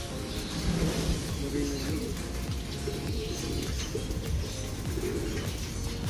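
Racing pigeons feeding on pellets, with soft cooing and pecking under a steady background and faint talk, continuous for several seconds.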